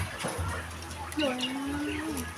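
A pigeon coos softly outdoors, a single drawn-out call over rumbling background noise.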